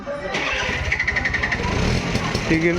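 Small three-wheeled auto rickshaw engine running steadily near a trek base at Mahuli fort, with a mid-pitched continuous drone and slight revving throughout, voices faintly mixed in.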